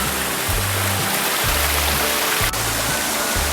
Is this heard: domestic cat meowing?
no